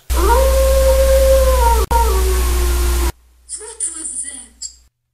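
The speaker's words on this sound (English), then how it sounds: "In the distance, wolves howl." Distant wolves howling in long, drawn-out rising and falling tones over a steady low rumble, several voices overlapping for about three seconds before cutting off, followed by a person speaking.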